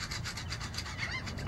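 Rapid back-and-forth rasping of a file taking material off a steel shackle for a catamaran rudder cassette, steady and close, with no talking.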